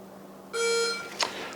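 A single electronic beep from a rechargeable training gun's shot timer sounds for about half a second over a low hum, followed by a brief sharp noise.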